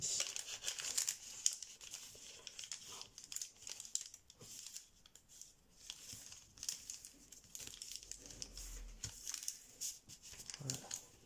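Paper is folded for an origami blue shark, with soft close crinkles, creases and rustles coming in irregular bursts while a person talks quietly throughout.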